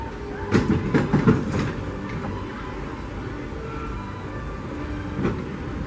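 A Disneyland Railroad passenger car rolls along behind the steam locomotive Ernest S. Marsh, with a steady low rumble of wheels on track, a few clicks and clunks near the start, and a faint squeal late on.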